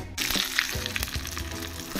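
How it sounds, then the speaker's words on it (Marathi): Cumin, mustard seeds and curry leaves crackle and sizzle as they hit hot oil for a chutney tempering, a steady close hiss broken by sharp pops and spatters. "आता आपण ह्या चटणीला जिरं, मोहरी आणि कढीपत्त्याची फोडणी देऊया"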